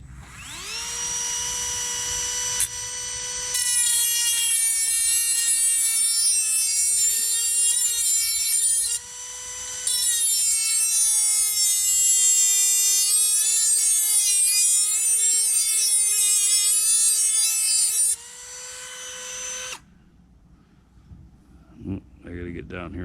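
A power tool sharpens the edge of a Ryobi 40V lawn mower blade, giving a steady, piercing metallic whine in long stretches broken by a few short pauses, close and loud, then winding down at the end.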